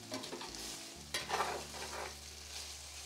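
Potatoes and pepper strips sizzle and crackle in a frying pan as a utensil scrapes and stirs them, with a louder stirring burst midway and steady frying throughout.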